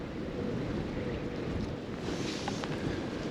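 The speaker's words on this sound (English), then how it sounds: "the wind's definitely picked up" Wind blowing steadily at an outdoor trout fishery, a broad, continuous rushing with low buffeting rumble against the microphone, no talking.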